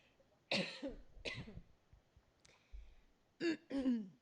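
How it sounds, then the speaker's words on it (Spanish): Several harsh coughs and throat clearings close up, in bursts with short pauses between them, against a quiet background. "Perdón que es que me cogí una tos."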